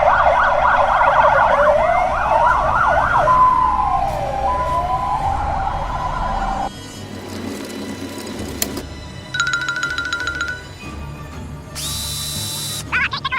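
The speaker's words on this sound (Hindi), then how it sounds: "एम्बुलेंस आ रही है," Ambulance siren in a dress-up cartoon game, a loud wailing and sweeping electronic tone that glides up and down for several seconds, followed by assorted game beeps and tones.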